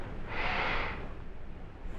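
A single person sniffs at an odor test pen during a smell sensitivity test, drawing in one steady breath that swells and fades over about a second, close and clear, with no talking.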